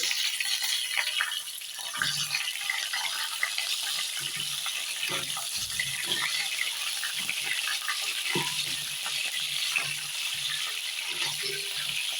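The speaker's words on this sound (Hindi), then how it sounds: "ये देखिए, मैं अब ये फूल गोभी को फ्राई करूँगी।" Cauliflower frying in hot oil for a Bengali bata fish curry: a continuous hissing sizzle with intermittent clinks and stirring knocks from the pan, close and steady, with no talking.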